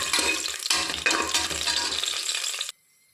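Cashews and raisins frying in ghee in a pan for sweet pongal, a steady close sizzle with stirring scrapes and light rattles, continuous for almost three seconds then suddenly cut to near silence.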